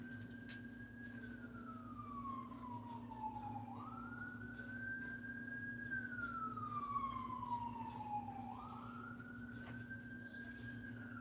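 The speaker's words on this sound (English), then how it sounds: "Y'all hear them sirens outside?" A wailing siren rises and falls in slow sweeps over a steady low hum, distant and muffled as if heard from indoors.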